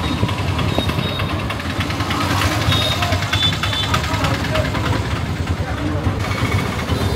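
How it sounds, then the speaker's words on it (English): A tuk-tuk auto rickshaw engine idles with a steady, rough rumble on a street in Udaipur, India, and continues throughout without a break. "I guess we're going in a tuk-tuk."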